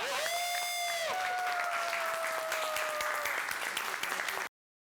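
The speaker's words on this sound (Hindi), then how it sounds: "जोरदार ताली से स्वागत कीजिए सबका।" A crowd at a society felicitation ceremony greets guests with a burst of continuous applause. A bright musical tone rings over the start, and the clapping carries on steadily before cutting off abruptly.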